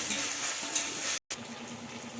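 Steady frying sizzle of onions and tomatoes with salt in a pan, close and even, broken by a brief silent gap midway; no talking.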